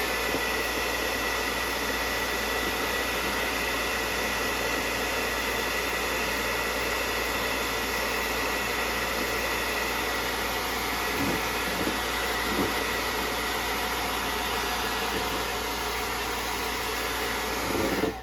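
Steady, loud blower roar drying a freshly painted plastic spray bottle runs unbroken for the whole stretch with no talking.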